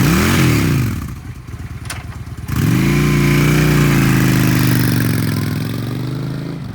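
A used 2009 Honda Shadow Spirit 750cc V-twin cruiser motorcycle idles loudly and close by with a throbbing, pulsing engine note. It dips briefly to a rougher, quieter chug, then settles back into a steady, full-bodied idle with no speech.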